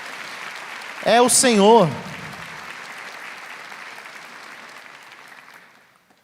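A church congregation applauds through a priest's sermon, a dense burst of clapping that swells and then fades over several seconds while a voice speaks briefly over it.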